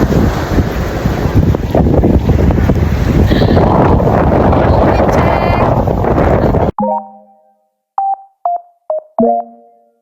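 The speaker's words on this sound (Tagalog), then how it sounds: "Grabe ang hangin dito" Strong wind buffets the microphone at Puka Beach, Boracay, a loud continuous roar with surf-like rushing for most of the stretch, then cutting abruptly to a few short bursts of sound in near silence.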